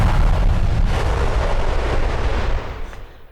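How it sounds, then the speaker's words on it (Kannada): A cartoon bomb blast goes off far away with a loud, sustained rumbling roar that fades gradually over a few seconds. "ಬಾಂಬ್ ಎಲ್ಲೋ ದೂರ ಹೋಗ್ಬಿಟ್ಟು ಬ್ಲಾಸ್ಟ್ ಆಗಿದೆ ಕಣಯ್ಯ"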